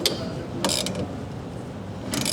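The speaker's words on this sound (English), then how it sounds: "So you need a 14 millimeter socket. You just put it on, and then you tighten it." A 14 mm socket on a ratchet tightening the wiper linkage nut on a 2007 Nissan Murano: a couple of quick bursts of metallic ratchet clicking, close up, separated by a low mechanical hum, with no talk.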